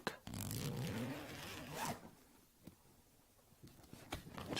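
A zipper is pulled in a long rasping stroke, then a few quieter clicks and short tugs follow, close up with no voices.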